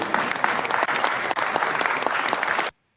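Dense, lively applause from a crowd, continuous close clapping that stops abruptly, leaving silence at the end.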